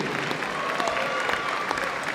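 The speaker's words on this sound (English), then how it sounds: "How about a nice round of applause" A crowd in a school gym applauds the officials before a Perham versus Frazee volleyball match, with dense, even clapping that runs without a break and no talk on top.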